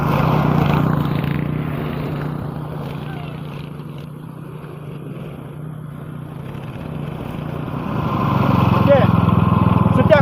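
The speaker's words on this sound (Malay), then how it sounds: "Jom kita mesin belah sini pula ni." A grass-cutting machine trims grass at a garden plot in front of a hut, its steady engine drone holding throughout, dipping slightly mid-way and swelling louder near the end.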